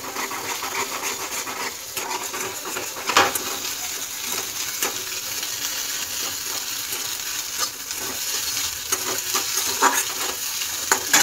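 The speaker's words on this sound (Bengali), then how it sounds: "ডিমটাকে ভুজিয়া বানিয়ে নেবো ভেজে ভেজে।" Beaten egg with a little salt frying into bhujia in a pan, a steady sizzle broken by scraping stirs and sharp clicks of the spatula against the pan, close and continuous without speech.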